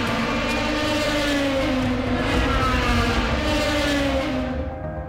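Race cars at the 2019 Le Mans 24 Hours, a continuous loud engine drone with steady harmonic tones, cars howling close by without a break.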